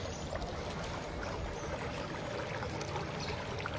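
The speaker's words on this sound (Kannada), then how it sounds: "ಇಷ್ಟು ನೀರು ಸುಮಾರು 2 ದಿನದಿಂದ ಹರಿತಾ ಇದೆ" Sewage water pours steadily from a blocked, overflowing drain in a residential street in front of houses, a continuous low splashing gush heard up close with no talk.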